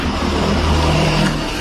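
Suzuki Satria 2-stroke motorcycle engine being kick-started, a loud, close, steady engine drone that holds throughout without talk.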